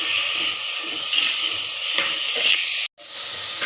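Two tomatoes sautéed in a hot pan for a South Indian fish curry: loud, continuous oily sizzling with stirring scrapes, broken by a brief dropout just before the end.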